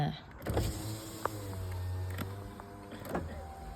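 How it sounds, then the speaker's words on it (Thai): Electric power windows on a 2007 Isuzu D-Max Gold Series 2.5 pickup whir up and down in a few motor runs, faint and close inside the cab, with someone speaking briefly over them. "เดี๋ยวเช็คกระจกไฟฟ้าค่ะ"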